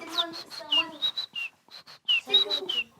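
A person whistles an imitation of a great tit's call, a run of short bright whistled phrases in two bursts separated by a brief pause, close and fairly clear, with faint voices underneath.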